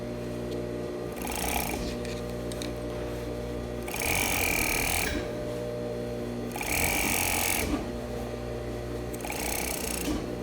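A serger overlocks the side seam of a skirt, its motor whirring in three or four surges over a steady low hum, moderately close and fairly quiet.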